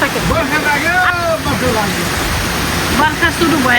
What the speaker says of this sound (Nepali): आज यति ठुलो हावाहुरी र पानी आछ